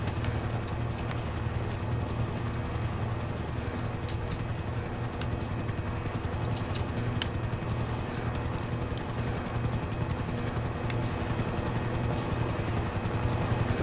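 A coast guard helicopter in the video game GTA 5 flies over a cruise ship rescue, its rotor a loud, steady, rhythmic low thrum with whining turbine tones throughout, no talking.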